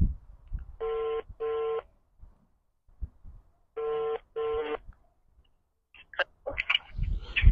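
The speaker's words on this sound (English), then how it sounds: "It's ringing." A telephone rings in two sets of double trills separated by silence, followed by faint rustling and a few clicks.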